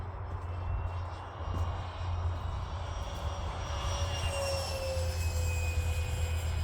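A HobbyKing Durafly Vampire RC model jet with 3D-printed wingtip tanks flies past, giving off a steady ducted whine whose tones slowly shift in pitch over a constant low rumble, heard from a moderate distance.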